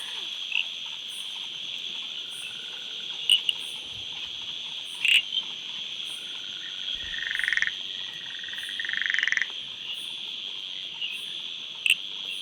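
Luteolus frogs calling in a Coorg plantation at night, a steady shrill chorus of insects and frogs with a few short croaks and louder nearby calls standing out; no one speaks.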